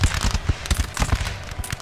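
Musket volleys in a Napoleonic battle in the Napoleon Total War video game crackle in rapid, uneven bursts of sharp pops, dense and continuous like scattered firing lines, with no voices.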